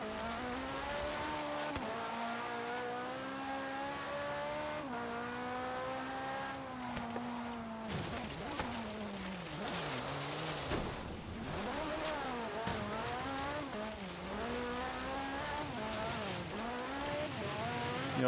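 A 900-horsepower Lancia Stratos race car drives hard, its engine droning loudly and steadily with repeated rises and dips in pitch as it revs through gears, close and continuous.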